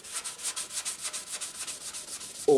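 Rhythmic back-and-forth rubbing on a Honda Blackbird petrol tank panel, a steady run of about a dozen even sanding strokes, close and clear with no talk.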